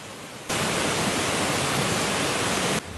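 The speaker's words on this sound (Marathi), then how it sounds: "आता हा पडेकाप धबधबा मी तुम्हाला समोरच्या बाजूनेच दाखवत आहे" Padekap waterfall in the Konkan region, Kankavli area, roars as a steady broadband rush of falling water that starts abruptly, holds loud and even for a couple of seconds, then cuts back to quieter background.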